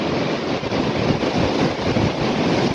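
Strong wind roars steadily and loudly across the microphone for the whole stretch, a dense, unbroken buffeting rush with no voices.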